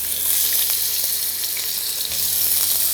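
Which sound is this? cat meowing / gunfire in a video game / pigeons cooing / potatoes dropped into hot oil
potatoes dropped into hot oil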